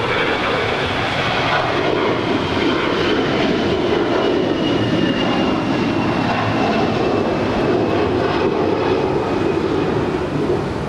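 An airliner takes off from runway 25 Right at Los Angeles International Airport, its jet engines producing a loud, steady, broadband roar that holds constant throughout with no voices.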